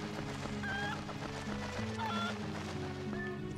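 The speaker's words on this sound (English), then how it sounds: "Come here, you golden chicken." A golden chicken clucks in The Legend of Zelda: Twilight Princess HD, short chirpy calls heard over a steady layer of in-game music and ambience at moderate level.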